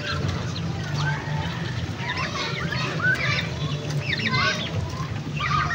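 Turkeys cluck and call in repeated short bursts over a steady low hum, several birds close by, with a faint voice in the background.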